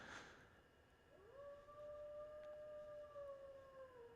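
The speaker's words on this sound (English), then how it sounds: "The howl of an animal. It sounds too high to be a dog." A lone animal howl in the visual novel Tsukihime, pitched higher than a dog, rising into a long sustained wavering tone that carries for several seconds with no talk over it.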